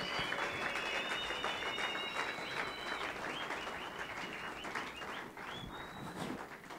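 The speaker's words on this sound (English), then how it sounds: "Clap hands for Jesus. Clap hands for Jesus." Enthusiastic applause from a church congregation, steady and dense hand clapping that fades slightly toward the end, with a few voices and whistles mixed in.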